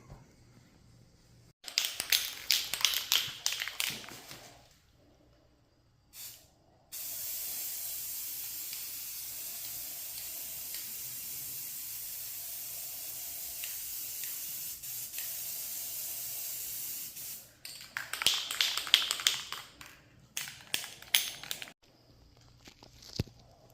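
Spray can hissing as yellow paint goes onto an epoxy flag, in bursts of a few seconds with a longer steady spray in the middle, close and fairly loud, with pauses of quiet between.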